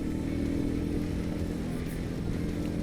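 A Royal Enfield Meteor 350 motorcycle engine, a two-valve single, runs steadily at idle with a smooth, continuous low rumble, close and unbroken, with no talking over it.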